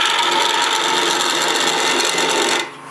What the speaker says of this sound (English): This is another variation of a planing cut.